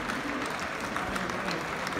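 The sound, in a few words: crowd applauding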